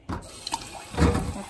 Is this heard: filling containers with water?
yes